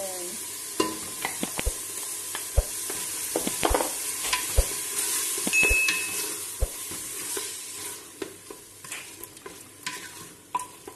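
Tomatoes frying with lamb in a pan, being stirred, with a steady sizzle under repeated scraping strokes and clicks of the spoon against the pan, close and moderately loud, no talking.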